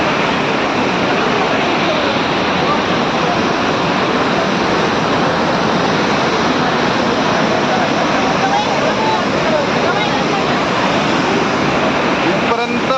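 Jog waterfall roars nearby, throwing rain-like spray in a dense, unbroken wash of loud rushing water, with faint voices briefly surfacing beneath it.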